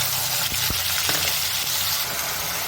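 Spice paste sizzling as it goes into a hot pan for a moong dal fritter curry, a steady close hiss with a few sharp clinks and thuds.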